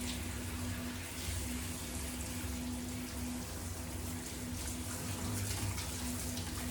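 Running water rinsing a Gordon setter during a bath, a steady close splashing and pattering spray over a low hum, continuous and even throughout.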